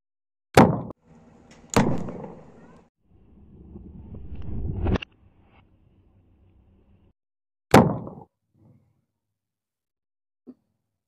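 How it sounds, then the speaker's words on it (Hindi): Homemade fire gun fired with calcium carbide and water: several sharp, loud bangs, each cracking suddenly then dying quickly, with quieter rustling and hissing between them and a faint click at the end. "जबरदस्त धमाका।"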